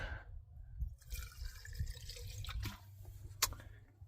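Gasoline splashing from a small container into a 1979 Dodge, a faint, brief trickle and drip of liquid with a sharper splash near the end, heard alone.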